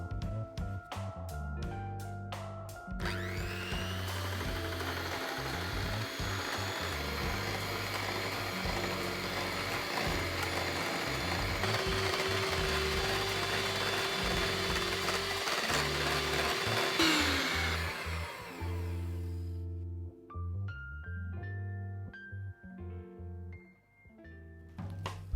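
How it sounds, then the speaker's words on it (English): A decades-old hand mixer whips body butter in a bowl, a steady loud whirring drone lasting around fourteen seconds before it stops, with background music playing throughout. "I'm going to take my trusty, probably couple decades old hand mixer, and we're going to start whipping this up until it's doubled in size"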